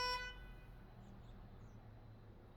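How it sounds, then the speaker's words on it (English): A single short car horn honk at the start, then steady traffic rumble continues underneath. "there's a honk."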